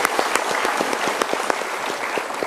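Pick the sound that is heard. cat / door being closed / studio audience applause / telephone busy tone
studio audience applause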